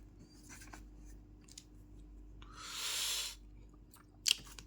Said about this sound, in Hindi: तो हम यहाँ लिख देंगे